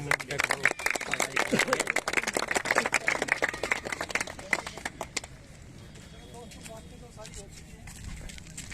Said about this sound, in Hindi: तो एक बार ताली बजाकर स्वागत कर